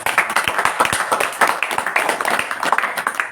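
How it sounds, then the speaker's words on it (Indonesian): Audience clapping at a religious talk, a burst of many hands applauding together, close and fairly loud, with scattered individual claps standing out. "Tepuk tangan."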